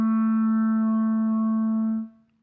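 Clarinet holding a single sustained low B, a steady tone rich in even harmonics that lasts about two seconds and then cuts off, played alone.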